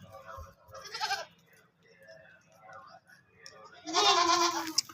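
Goats bleat at a livestock market selling goats, with a loud bleat near the start and a longer, stronger one toward the end, over a low murmur of background noise.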